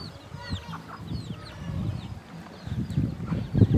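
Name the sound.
chickens clucking in a village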